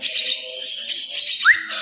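A young Javan myna (jalak kebo) gives short, sharp chirps close by, with a brief rising whistle-like call near the end over a faint background.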